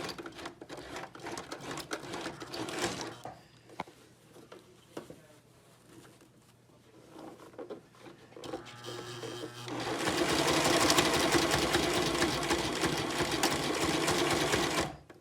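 A sewing machine stitches a fabric mask in short mechanical bursts at first, then runs loud and continuously for several seconds at the end.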